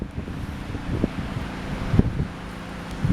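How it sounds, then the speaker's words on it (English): Strong gusting wind at Portlock Park during a wind warning, a rough rushing roar with buffeting bursts against the microphone, loud and continuous over the short stretch. "Those are the high winds we're getting today."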